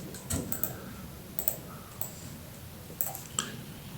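A computer mouse clicking while working in Microsoft Word, a few sharp, quiet clicks spaced irregularly over a faint background, with no speech.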